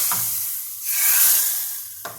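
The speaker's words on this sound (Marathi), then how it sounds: "आता मी यामध्ये थोडंसं हळद टाकते आणि याची फोडणी मी या कढीवर दिली" A tempering of curry leaves and turmeric poured onto garlic kadhi, breaking into a loud, swelling sizzle that peaks and slowly fades, framed by a couple of sharp utensil knocks.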